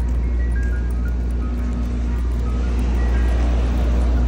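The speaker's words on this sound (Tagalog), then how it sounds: "Ice cream truck." An ice cream truck passes near a factory outlet, its droning engine and faint chiming tune steady and loud throughout.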